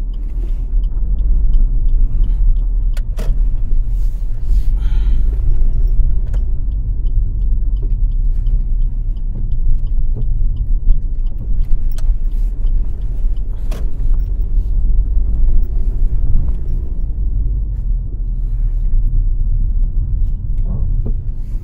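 A car rolling slowly over a rough, potholed neighbourhood road in Accra, Ghana, with a steady low engine and road rumble and scattered faint knocks and rattles from the bodywork.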